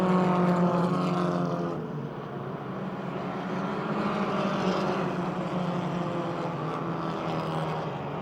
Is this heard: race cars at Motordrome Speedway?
yes